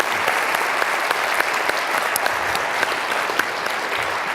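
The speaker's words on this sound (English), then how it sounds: "help me join more round of applause for our panelists" Audience at a university business forecast forum applauding the panelists, with a thick, even round of clapping from a large crowd that fills the room and holds steady, loud and unbroken, with no voices.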